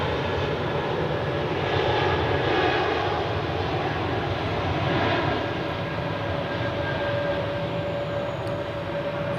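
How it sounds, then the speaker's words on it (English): Airliners taxiing toward runway 28 at Zurich Airport during the evening departure rush, a steady broad engine roar and whine holding at moderate distance throughout with no one talking. "here we have more aircraft taxiing to runway 28, like the EasyJet 2 Swiss"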